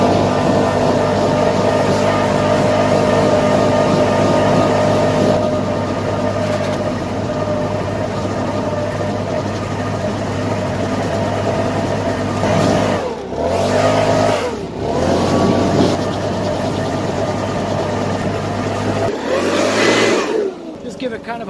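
A Stihl leaf blower clearing gutters drones loudly and steadily close by, with brief dips and surges as the engine throttles, and the roar persists across the whole stretch.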